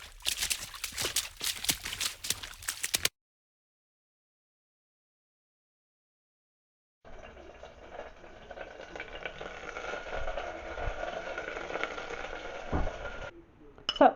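Kalettes cooking lightly in a little olive oil, a steady soft sizzle and crackle in a pan running for several seconds after a short silent gap, with scattered stirring clatter near the end.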